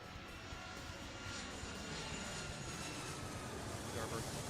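Jet and airliner engines roar steadily in the Airport Madness 3 airport game, a broad, continuous hum that slowly swells while a controller voice issues clearance instructions over it.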